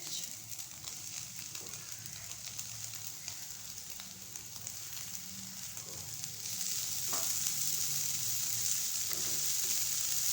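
Green capsicum sautés with carrots in a hot pan for chicken bun filling, a steady close sizzle and crackle that grows slightly louder partway through, with no voices.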